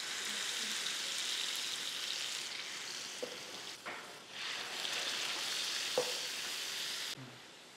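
Cumin seeds frying in hot oil as curry gravy begins, a steady bright sizzle with brief stirring clinks and a dip midway, no talking.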